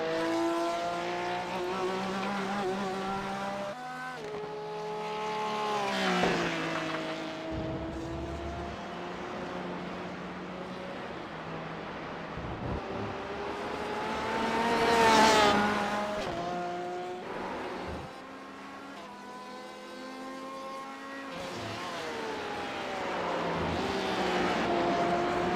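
Race cars in a racing video game lap Road Atlanta in qualifying, with engines droning and rising and falling through gear changes, one car sweeping loudly past midway, and a continuous layered mechanical whine throughout.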